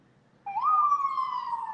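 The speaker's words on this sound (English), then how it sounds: "Sorry for the ambulances at Bar Park," Single wailing siren of an ambulance rises sharply then holds a steady high tone, loud and alone.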